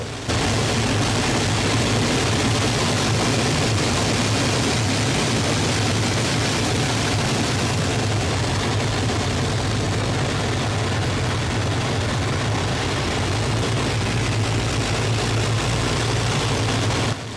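A Hawker Hurricane's Merlin engine roars through aerobatic manoeuvres such as rolls, a loud, continuous, broadband drone that holds nearly constant from start to finish.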